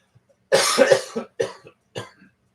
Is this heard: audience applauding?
no